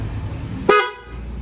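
A single loud horn honk from a Honda Click 125 scooter fitted with a PIAA horn, short and sharp, rising abruptly out of low background noise and cutting off after about a quarter second.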